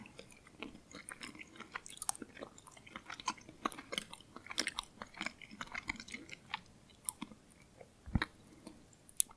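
Norwegian licorice candy is chewed very close up, with soft, moist crunching and sticky bites that pop irregularly over a quiet background.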